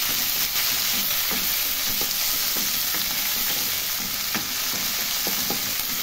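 Two medium tomatoes, cut into small cubes, sizzle and fry steadily with lightly browned onions in a pan, a close, continuous crackling hiss broken by soft stirring scrapes and no voices.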